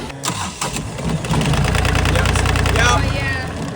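A sailboat's failing marine engine cranks over with a steady, loud mechanical churn that holds for a few seconds before dropping off. Voices speak at the start.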